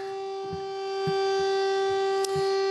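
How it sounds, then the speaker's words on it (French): A city civil defense siren in Arras, France, sounding during a memorial gathering, holds a steady, sustained wailing tone, loud and continuous, with faint thumps in the background. "Voilà la sirène de la ville qui vient de retentir"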